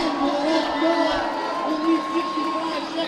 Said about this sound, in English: The crowd is into it. They're cheering him on the best they can.